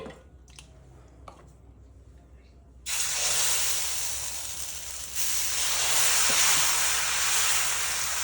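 An oiled onion is rubbed across a hot dosa tawa, setting off a sudden loud, sustained hiss of sizzling that swells again partway through, after a few quiet taps and drips before it starts.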